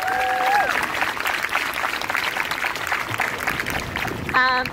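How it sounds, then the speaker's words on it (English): Audience at a community town hall applauds the scheduled speakers, steady crowd clapping throughout with brief voice-like tones near the start and end. "Can you give a round of applause to everyone who's going to be speaking today?"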